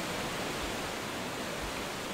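A waterfall in the video game Gothic gives off a steady, quiet broadband rush of falling water that holds unchanged throughout, with no voices.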